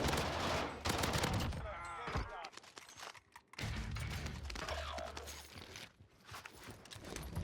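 Gunfire in the Warzone video game, with bursts and volleys of shots popping loudly and close, broken by brief gaps, plus footsteps and other game noise around them.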